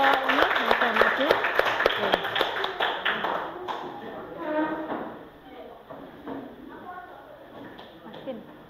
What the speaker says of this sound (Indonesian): Beri aplaus ya untuk ini sudah maju.